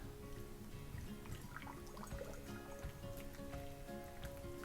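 Simple syrup is poured into a heavy-duty glass bottle, giving a soft continuous trickle and splash of liquid that runs faintly and steadily throughout.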